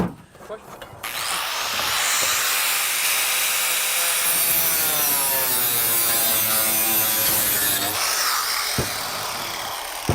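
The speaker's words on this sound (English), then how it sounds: "Let's go cut the siding for this piece" Power saw cutting through a piece of siding in one steady, loud, continuous pass lasting several seconds, starting and stopping sharply, close by.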